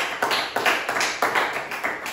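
A church congregation claps together in praise of the Lord, a dense, steady rhythm of loud applause with regular beats and no voices over it.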